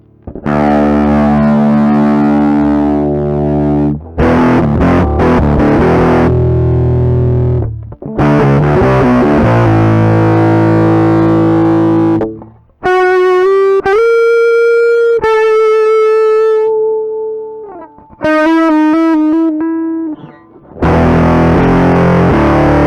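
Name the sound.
guitar through DIY Mostortion clone distortion pedal, all knobs at maximum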